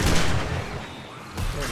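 A sniper rifle fires in the zombie survival game 7 Days to Die during a horde fight, a single loud, booming shot with a rumbling tail that fades and then swells again.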